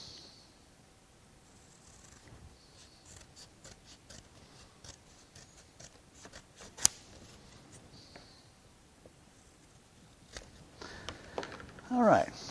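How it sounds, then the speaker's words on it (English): Scissors snipping and crunching through stiff corrugated plastic sheet, a series of irregular close cuts with scraping, growing louder toward the end. "And we can cut that out with the scissors."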